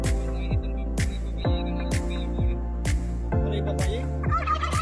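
Repeated loud turkey gobbles on a farm, one after another in a steady series, close by with rattling, warbling calls.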